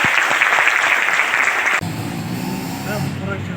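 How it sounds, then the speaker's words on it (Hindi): Audience applause at a theatre festival in Karachi: a burst of dense clapping that cuts off abruptly halfway through, followed by a voice speaking over low background noise. "मेरी तरफ से आप सबके लिए तालियां"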